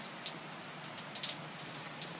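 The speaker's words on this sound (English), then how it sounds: "it's been raining all day." Rain falling at night after a full day of rainfall, a steady soft hiss dotted with faint irregular patters of drops landing on a surface, fairly quiet and close, with no voices.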